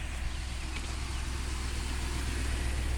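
A 2022 Ford truck's 7.3 liter Godzilla V8 engine drones steadily from inside the cab on an early morning drive, a low continuous rumble with no one talking.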